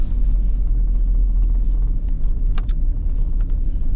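Car interior on a winter drive home from lake fishing, a steady low engine and road rumble close and loud throughout, with a couple of brief faint squeaks.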